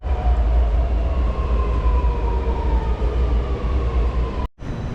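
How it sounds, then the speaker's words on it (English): Sydney Metro train riding steadily, a loud continuous low rumble with a rising electric motor whine, briefly cut out near the end before the running noise resumes. "I love the metro."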